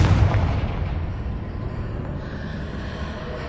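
Confringo fire-blast spell exploding in Hogwarts Legacy, a loud boom with deep rumbling body that slowly decays over a few seconds, heard alone.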